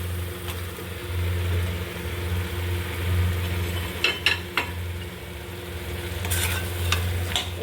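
Bottle gourd with fried shrimp and potatoes sizzling in spices in a pan, a low steady fry broken by a few scraping, clinking strokes of a spoon as it is stirred.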